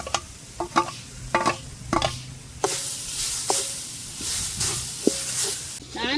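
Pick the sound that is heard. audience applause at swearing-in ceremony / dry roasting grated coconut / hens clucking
dry roasting grated coconut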